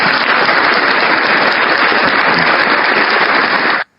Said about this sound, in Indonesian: Tepuk tangan dulu guys, tepuk tangan.